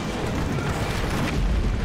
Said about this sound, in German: Die Explosionen sehen verdammt cool aus